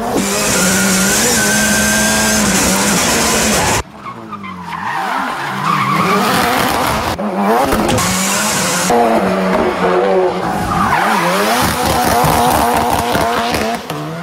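A rally car spins donuts on a small course in France, its engine revving hard and loud while the tires squeal in long, continuous screeches that rise and fall with each rotation.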